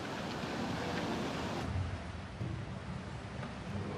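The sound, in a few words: tsunami torrent of water rushing in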